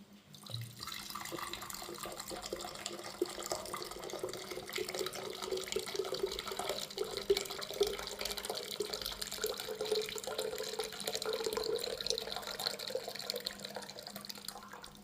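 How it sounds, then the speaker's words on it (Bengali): Lukewarm water is poured into a container to mix a home remedy, a steady close trickle and splash running continuously for about fifteen seconds with no talking. "এখন এটা পানি মেশানোর সময় হয়ে গেছে।"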